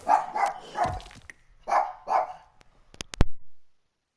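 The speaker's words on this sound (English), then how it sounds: "that guy's dog went nuts on me for a second" A dog barks excitedly nearby in a rapid run of about five loud barks, then a short pause and a couple of sharper yips near the end.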